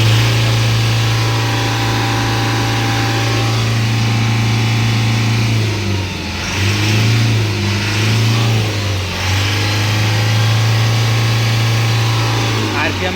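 A diesel vehicle engine with a fuel injector nozzle fault idles with a steady low rumble, then revs up several times in surges before settling back, loud and close throughout.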